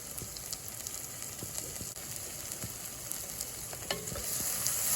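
Onions for French onion soup sizzle steadily in a pot while being stirred, with soft scraping strokes over a constant frying hiss that grows slightly louder toward the end.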